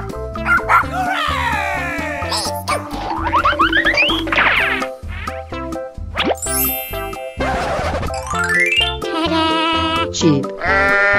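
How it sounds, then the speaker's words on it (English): Animated sheep bleats and dog barks, part of a busy burst of animal noises, pops and boings over upbeat music. "Sheep."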